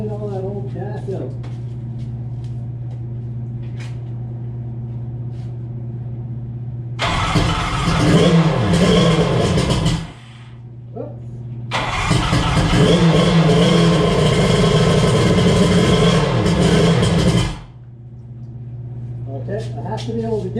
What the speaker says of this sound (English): I'm going to try to just let it run at a high idle